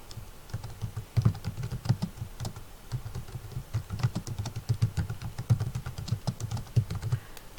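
A computer keyboard is typed on at a steady pace, with a quick run of close, crisp key clicks and no talking.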